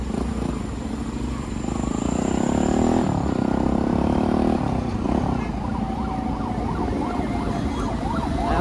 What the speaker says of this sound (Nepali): एम्बुलेन्सले बाटो देऊ न हौ।